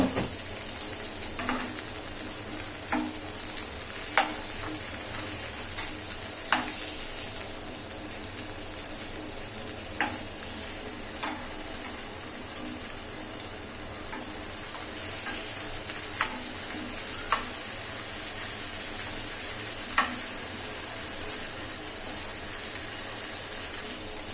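Potatoes and onions fry in a pan with a steady, even sizzle throughout, broken now and then by faint clicks and taps of a spatula.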